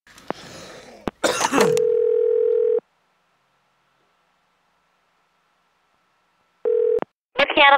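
A landline telephone dial tone hums steadily for over a second, then falls silent before returning briefly, with a cough and throat clearing at the start and a short voice at the end.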